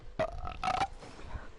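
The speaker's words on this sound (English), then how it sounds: "Oh, I just burped too." Two short, close belches from a commentator during a virtual racing broadcast, each a brief guttural burst with nothing else around them.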